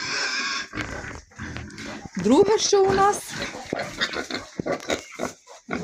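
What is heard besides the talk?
pigs grunting in a barn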